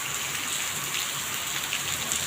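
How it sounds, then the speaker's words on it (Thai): Steady rain pours down onto surfaces outdoors at a work site, a loud, dense, even hiss filling the short stretch without a break. "โอ้โหโอ้โหโอ้โหฝนตก"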